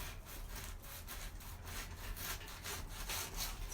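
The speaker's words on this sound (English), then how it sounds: "So there, we're cutting the end off of our onion here." A kitchen knife saws back and forth through the end of an onion, a steady run of close, rasping strokes repeating about every half second with no talk.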